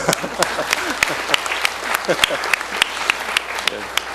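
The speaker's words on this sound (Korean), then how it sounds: "우리 박수 한번 더 쳐줘야 돼요" An audience at a government vision ceremony breaks into applause, loud and sustained, with scattered sharp individual claps standing out from the dense wash of clapping.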